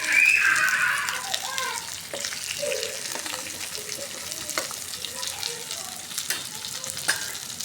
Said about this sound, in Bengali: এই যে মাছটা একটু কড়া করে ভাজি করতেছি